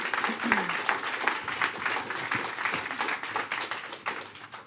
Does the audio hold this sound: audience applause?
yes